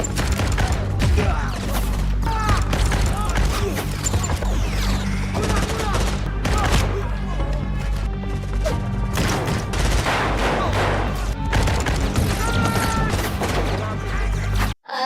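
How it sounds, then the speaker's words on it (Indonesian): Gunfire in a zombie action film shootout: dense, continuous bursts of shots and crashes packed together for about fifteen seconds, loud and close, mixed with dramatic effects and scattered voices. "Lalu kembali terjadi aksi baku tembak di sana."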